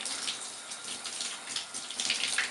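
Tap water runs steadily over a Nikon D7000 camera being washed, a continuous close hissing splash throughout with no speech.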